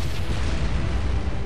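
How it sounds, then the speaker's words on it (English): The Vanguard cannon fires in the Sunrider space game as a dense, continuous rumbling blast. It is loud and booming and fills the whole moment with no talk. "Prepare to fire the Vanguard cannon."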